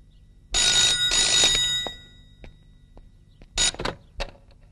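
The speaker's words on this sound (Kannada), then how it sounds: "ಫೋನ್ ನೋಡಪ್ಪ" A telephone bell rings indoors in bright, loud bursts, two long rings close together followed after a pause by shorter rings, with quieter room sounds between.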